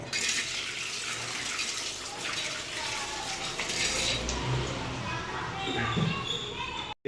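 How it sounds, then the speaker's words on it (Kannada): A chapati griddle (tawa) being rinsed and scrubbed with running water in a boys' PG kitchen, giving a steady close splashing wash with metallic scraping and clinks throughout. "ಈಗ ಹಂಚಿದೆ ಹಂಚನ್ನ ಕ್ಲೀನ್ ಮಾಡ್ತಾರೆ"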